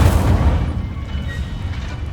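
An Incendio fire spell cast in Hogwarts Legacy, a dense, booming burst of flame with heavy low rumble that swells at the start and then holds as a steady roar for about two seconds.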